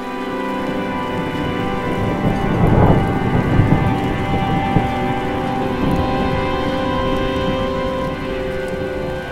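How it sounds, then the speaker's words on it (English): Steady rain falls through a thunderstorm on a coastal hiking trail along Victoria's Great Ocean Walk, with a low rolling rumble of thunder swelling near the three-second mark before easing back into the continuous hiss of rainfall. "there was the most beautiful lightning storm surrounding me"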